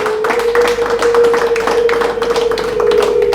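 Applause for the brides' mothers at a civil wedding: a crowd claps steadily and loudly up close while a high, sustained ululation trills continuously over the clapping.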